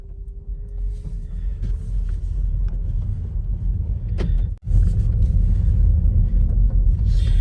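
An MG4 electric car pulls away, a continuous low road rumble and tire roll close by with a faint rising motor whine, briefly cut by a momentary dropout midway before the rumble resumes.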